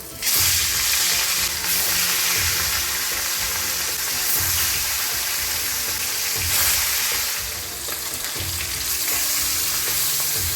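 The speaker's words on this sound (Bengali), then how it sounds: "কড়াইতে আমি সর্ষের তেল দিচ্ছি। তেলটা গরম হয়ে গেছে, এবার মাছগুলো দিয়ে দিচ্ছি।" Fish sizzles loudly in hot mustard oil in a wok, a dense crackling hiss that swells and eases, with occasional low clanks from the pan.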